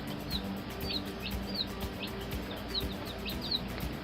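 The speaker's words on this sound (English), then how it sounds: "Let's see, who's chirping right now?" Baby chicks peep in short, repeated high chirps, several overlapping at close range over a steady background hum.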